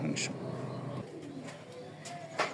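A pair of club racer pigeons coo softly in a few short, low calls, with a voice nearby.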